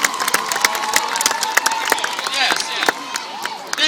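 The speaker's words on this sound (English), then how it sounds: "Let's all welcome him with a round of applause." An audience gives a round of applause to welcome a performer at a physics demonstration, scattered sharp claps with cheering and crowd voices over a short lively stretch.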